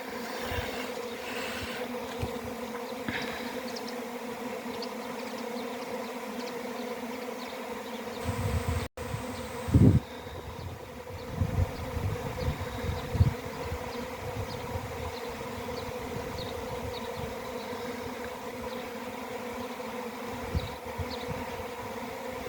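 A continuous low droning hum of a honeybee swarm buzzing, steady throughout, with a few brief knocks and rustles partway through.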